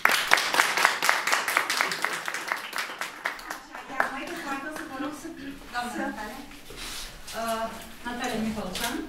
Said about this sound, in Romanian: Vă rog frumos să o aplaudăm.